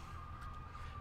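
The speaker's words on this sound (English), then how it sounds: "oh look, sirens" Sirens in the video game Planet Coaster, a faint, steady wailing tone held under a soft background hum for a moment.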